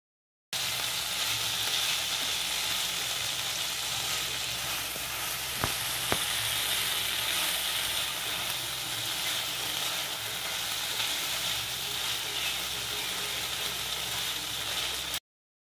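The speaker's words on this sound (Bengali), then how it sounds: "এরপর আরও কিছুক্ষণ আমি কড়াইতে নাড়াচাড়া করে ভুট্টাটা বানিয়ে নিচ্ছি" Corn kernels with tomato ketchup stir-frying in a kadai give a loud, continuous hiss and sizzle up close, with a couple of brief utensil taps and no speech.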